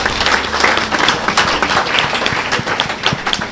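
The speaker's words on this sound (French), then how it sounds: "Applaudissez alors pour vous-même" A church congregation claps for itself during a Lord's Supper service. The applause is lively and fairly close, with some uneven, sharper individual claps standing out from the crowd.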